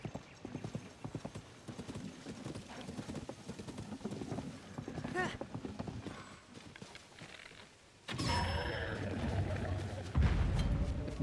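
Horse hooves clip-clop steadily in Zelda: Tears of the Kingdom, a rhythmic run of mid-level hoofbeats under a busy game soundscape, growing louder and denser in the last few seconds with a brief whinny-like call.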